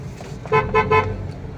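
Car horns honk three times in quick succession, loud and close, over rumbling road traffic on EDSA, a busy Manila highway.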